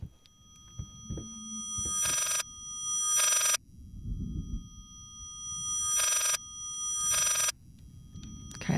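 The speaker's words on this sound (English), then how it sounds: "sounds like a phone, but if you try to make a phone a more annoying sound" Electronic phone ringing in the horror game Layers of Fear, loud harsh buzzing rings in pairs of short bursts with silent gaps between them, with faint thuds and rumble underneath.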